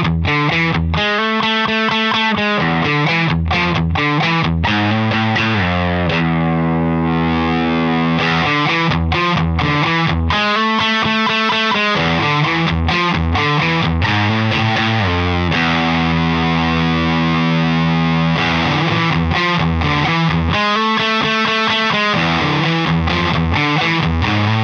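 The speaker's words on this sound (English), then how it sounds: "I want to show you the drive sound as dry as it gets. So without the reverb" An electric guitar plays chords through a Walrus Audio Melee pedal set to dry overdrive with no reverb. The tone is steady, loud and fuzzy, with chords sustained and rhythmically chopped throughout.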